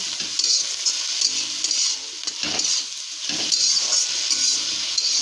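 Potatoes frying with fenugreek greens in a pan, a steady high sizzle with occasional scraping stirs, close and moderately loud.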